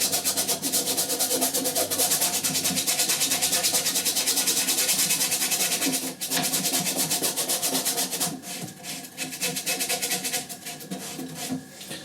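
A paint-soaked brush is scrubbed onto a canvas during a wet-on-wet portrait painting, a close, continuous rasping rub with a rapid back-and-forth rhythm that eases slightly near the end.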